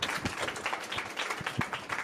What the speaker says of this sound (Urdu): ہاللیلویہ، یسوع کے لیے زوردار تالیاں۔